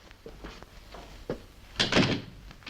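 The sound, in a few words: door being shut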